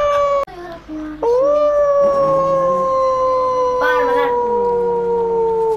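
Wolves howl in a video game, several long rising and falling tones layered together, loud and close, with a brief sharp knock just before the howling begins.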